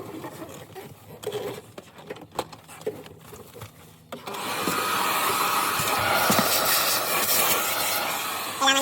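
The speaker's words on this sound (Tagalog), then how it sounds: "Magba-vacuum muna tayo." A vacuum cleaner starts up after some scattered knocks and rustling, then runs with a steady whirring roar close by.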